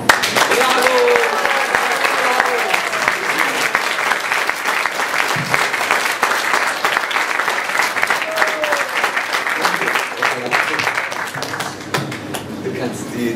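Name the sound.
audience applause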